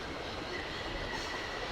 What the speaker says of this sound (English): A spring-operated locomotive?